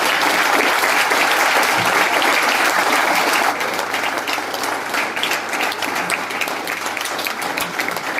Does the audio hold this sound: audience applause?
yes